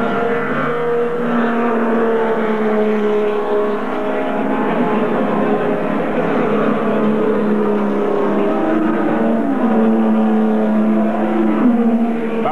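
Turismo Carretera race cars from a regional 1993 race at the Pilar circuit accelerate hard, their engines roaring loud and steady, with Luis Esnaola's car among them and several cars close together.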